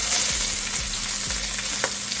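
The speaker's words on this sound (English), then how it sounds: "And you're going to add some scallion and onion to the pot." Scallion and onion hitting hot oil in a pot for a one-pot curry chicken, giving a loud, close, continuous sizzle with a few soft stirring knocks.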